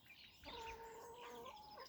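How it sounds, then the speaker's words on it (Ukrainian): Laying hens cluck softly with a drawn-out, wavering call, close by and fairly quiet against a faint background. "Три курки несучки."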